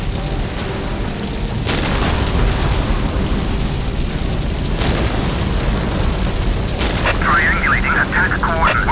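Whirlwind artillery tank firing a missile barrage in Warhammer 40,000: Dawn of War, dense rumbling booms and crackling blasts rolling continuously and loud, with a whistling streak near the end.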